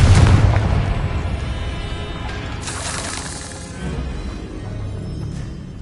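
A Confringo spell explodes in the video game Hogwarts Legacy inside a decayed catacomb. A heavy, close boom rolls out at the start and fades, and a second bright burst flares a few seconds later.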